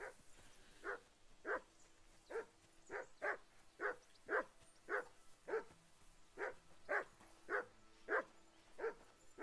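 Dog in Kingdom Come: Deliverance II barking in a steady, regular series of about fifteen short woofs, moderately distant and fairly quiet, with no talk over it.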